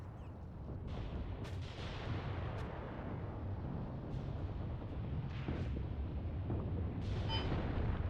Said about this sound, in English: Beautiful impact from the heavy howitzer.